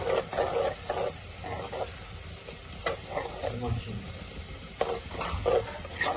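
Crushed ginger-garlic paste sizzles and fries in a pan for kadhi pakora, with soft stirring scrapes, a quiet, uneven crackle close by.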